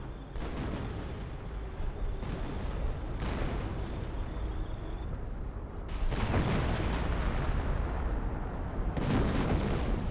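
Artillery shells boom and crash again and again in a Company of Heroes battle, with dense, overlapping explosions rumbling continuously and growing heavier toward the end.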